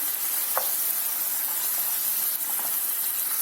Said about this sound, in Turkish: Şimdi etimizi biraz suyu çekene kadar kavuracağız. Çok az içerisine sıvı yağ ekledim ben.